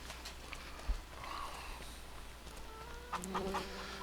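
Chickens in the video game Farming Simulator 25 cluck in short bursts over a low steady hum, with a few sharper calls near the end, moderately quiet and fairly close.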